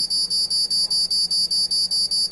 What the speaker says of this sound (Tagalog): it will give an audible alarm and a visual indicator